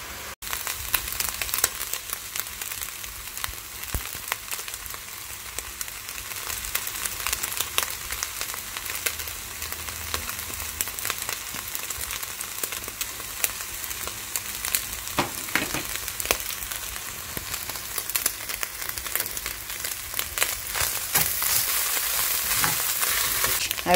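Meat browns in a frying pan, giving a continuous dense sizzle with crackles and occasional stirring scrapes that hold at a steady, close level for the whole stretch.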